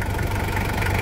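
A 1997 Toyota Hilux SW4's 1KZ diesel engine idles steadily up close, a loud, even low rumble with a fast regular knock and no voices over it.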